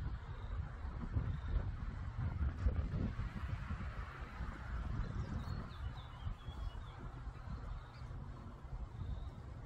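Wind blows outdoors in bright sun, a steady low rumble of gusts buffeting the microphone throughout, with faint birds in the background.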